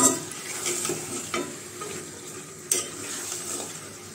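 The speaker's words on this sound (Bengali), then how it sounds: "তো এখন ভালোভাবে মাংসটা কষাবো, আর সাথে আলুগুলো দিয়ে দিব" Meat and potatoes fry in a pan with a low sizzle while a utensil scrapes and stirs in uneven strokes, with one sharp metallic clank partway through and no voices.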